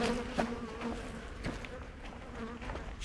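Honeybees drone steadily in an opened hive, a dense continuous buzz close by with a few brief louder surges, no talking.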